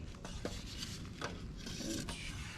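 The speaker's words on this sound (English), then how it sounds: "Make sure you give it a good stir." Stir stick scraping and swirling through a can of wood stain, a few faint rubbing and knocking strokes close by.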